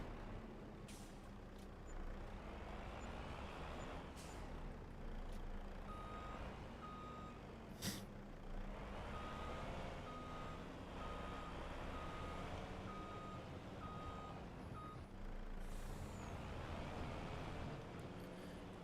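A lorry reversing in Farming Simulator 25 gives off steady, evenly spaced reversing beeps above a loud, continuous diesel engine rumble, with an air brake hiss partway through.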